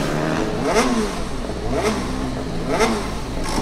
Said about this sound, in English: Struggling a bit with starting the engine on the line.